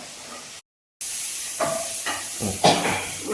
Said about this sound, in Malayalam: ഉള്ളി ഏകദേശമൊക്കെ വഴണ്ടി വന്നിട്ടുണ്ട്